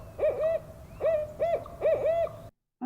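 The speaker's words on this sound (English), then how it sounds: "Oh, there goes with the owl again." An owl hoots repeatedly nearby, four or five loud, clear hooting bursts in a steady rhythm, heard alone before cutting off abruptly.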